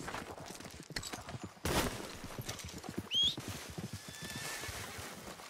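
Horse hooves clip-clop in a quick, steady rhythm in Red Dead Redemption 2, with a sharp thud and a brief whinny-like squeal cutting through the trotting.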